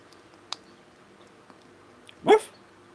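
A dog gives one short, sharp bark near the end, preceded by a few faint clicks and scuffles in an otherwise quiet room.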